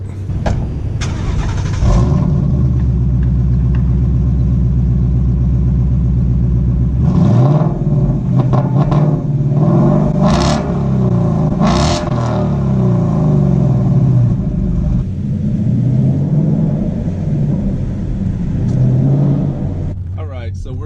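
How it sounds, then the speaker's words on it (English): A 2015 Ford Mustang's high-revving 435-horsepower engine starts and accelerates hard in rush hour traffic in West Los Angeles, rising and falling revs roaring loud and close, with a person talking over parts of it. "It's a high revving engine, makes most of its power up top."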